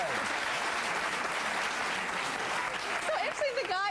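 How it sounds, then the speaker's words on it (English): An studio audience claps, with the men among them joining in a dense, steady round of applause, while voices and a few cheers break through near the end. "So actually the guys clapped for that."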